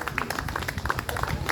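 Audience applause for a prize winner at the France koi show 2025 awards ceremony, a steady patter of many hands clapping at close range with crowd murmur beneath.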